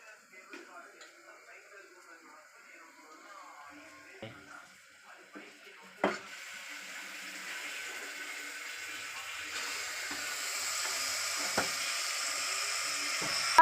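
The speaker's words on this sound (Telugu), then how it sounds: "ఇప్పుడు సిమ్లో పెట్టుకొని చికెన్ ముక్కలు వేసుకుందాం." Half a kilo of washed chicken pieces hitting a pan on low heat, a soft sizzle that swells after a sharp clatter and keeps hissing steadily, with quiet kitchen clinks.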